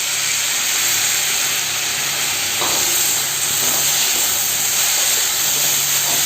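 Tomatoes tossed into sautéing onions for a traditional brinjal curry, a loud continuous sizzle and hiss from the hot pan with faint stirring clatter, close and steady throughout with no talk.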